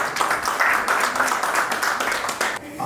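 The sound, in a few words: audience applause for a guest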